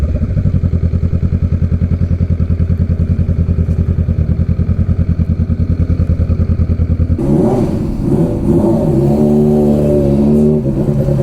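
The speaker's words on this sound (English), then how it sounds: "The sport bike go vroom vroom." A sport bike engine runs loud and close at a petrol station with a steady, throbbing idle that shifts midway into rougher, rising revs. No voices are heard.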